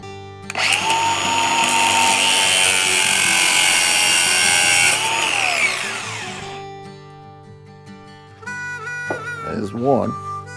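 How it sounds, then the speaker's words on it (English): An angle grinder cuts through a steel part for a Volvo VNL truck freezer door repair, a loud steady high-pitched whine for about five seconds that winds down, then brief whirring bursts as the tool spins again. "I'm going to take the straight part out of this with my grinder"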